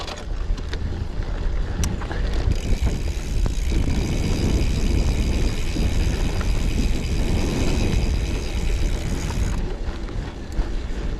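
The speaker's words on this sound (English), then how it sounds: "a bit of gravel now. And this bike feels really good on the gravel too" A Specialized Allez Sport road bike rolls steadily over loose, not-too-rough gravel, a continuous crunching rumble of tyres mixed with heavy wind noise across the microphone, close and loud throughout with no talking.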